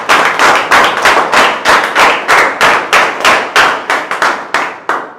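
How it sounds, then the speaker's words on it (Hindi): A crowd applauds loudly at a direct-selling or network-marketing event, with about a dozen distinct, evenly spaced heavy bursts of clapping that rise and decay close by, and no voices heard. "एक बार जोरदार तालियां बजा दीजिए"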